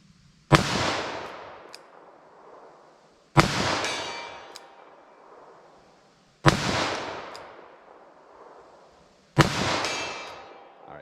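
Four loud gunshots from a Taurus revolver firing cheap Magtech JHP ammunition outdoors, evenly spaced about three seconds apart, each a sharp crack with a long rolling echo, no talking.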